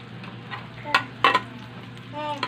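Garlic sautés in cooking oil with a low steady sizzle, broken by a few sharp clinks and scrapes of a utensil against the pan, close by and without talk.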